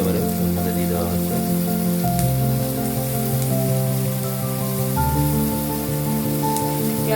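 Chopped onions dropped into hot oil with garlic for a mushroom cream soup, giving a dense, even sizzle that holds steady throughout, with faint background tones and no clear talking.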